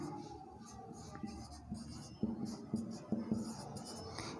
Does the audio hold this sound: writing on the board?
yes